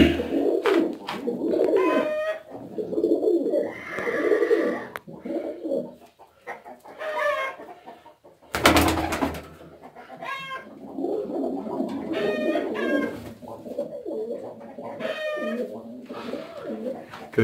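Pigeons in a loft, including a Kayseri smoky pigeon sitting on eggs, cooing in repeated soft throaty phrases close by, mixed with someone talking and a sharp rustle or clatter midway.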